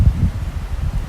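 Gusty wind blows outdoors over a plant-growing area, a steady low buffeting rumble with a sharp gust at the start, close and fairly loud on the microphone, no voices.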